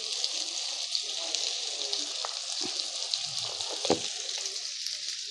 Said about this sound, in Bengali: আমার আলুগুলো ভাজা হয়েছে